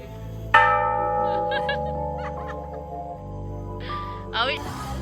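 A bell rung for happiness at a site in Singapore strikes once with a bright, sustained harmonic ring that decays slowly, with a lighter second strike near the end, while people chatter and laugh in the background.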